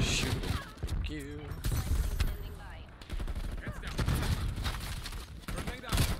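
Rapid gunfire in a shooter video game, bursts of automatic shots crackling over busy game audio, with a voice speaking partway through.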